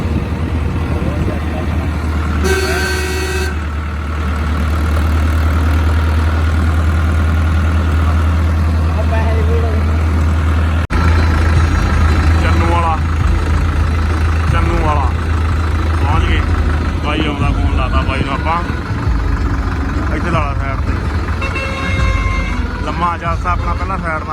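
A steady low tractor engine idle rumbles throughout, with people talking intermittently over it.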